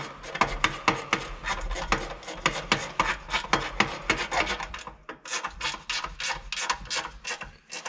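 A ratchet tightens bolts on a John Deere 4840 tractor, heard as a close run of quick rasping clicks in bursts of repeated strokes, with brief pauses between them.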